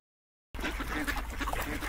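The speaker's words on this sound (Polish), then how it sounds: "Kaczka." A duck quacks in a quick run of short, nasal calls, fairly close, starting abruptly after a moment of silence.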